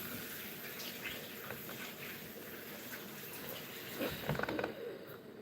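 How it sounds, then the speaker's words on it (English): Tap water running steadily into a kitchen sink while hands are rinsed, a soft continuous splashing stream with a brief louder gush near the end. "I'm just going to rinse my hands."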